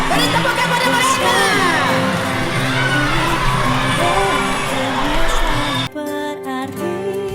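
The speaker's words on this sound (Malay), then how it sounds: "Beri tepukan pada mereka." Loud crowd cheering and whooping from children at a school reading campaign launch rings out over music, excited shouts sustained before cutting to a quieter musical passage near the end.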